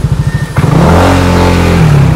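Yamaha Nmax 180cc scooter engine revving up from a putter into a steady rising drone as the throttle opens and it accelerates, loud and close with no talk.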